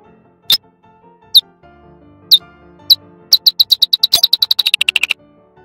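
A bat's feeding buzz slowed ten times: a few widely spaced chirping calls that then speed up into a rapid train of short sweeps, loud and close against a faint tonal background.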